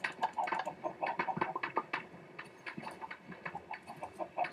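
A crowd of chickens clucks busily and almost without pause in a video game chicken farm fitted with egg dispensers, many overlapping calls close up and fairly loud.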